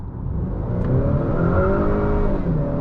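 A 2020 Honda Accord EX-L 2.0T accelerates at full throttle on a highway, with a loud, steady engine roar that rises in pitch from inside the car.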